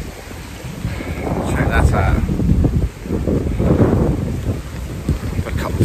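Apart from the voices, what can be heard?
wind blowing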